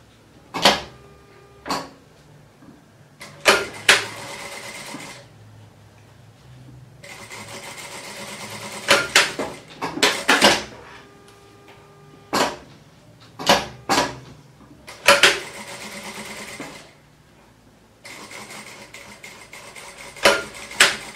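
Sewing machine stitching seams on a Japanese-style fabric coin purse, running in several short bursts of rapid needle clatter separated by pauses, with occasional clicks and handling noises between runs.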